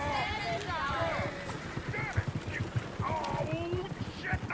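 Horses galloping in the video game Red Dead Redemption 2, a rapid, steady clip-clop of hooves running throughout, with voices talking over them.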